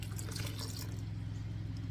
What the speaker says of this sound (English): So I'm gonna go ahead and add the water. That's 1/2 cup of water.